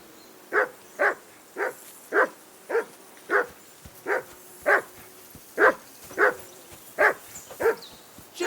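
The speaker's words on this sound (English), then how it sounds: "Jesus, Henry, that barking's driving me nuts." Dog barking in Kingdom Come: Deliverance II, a steady run of about fourteen sharp, fairly close barks at roughly even intervals, standing alone with no talk over them.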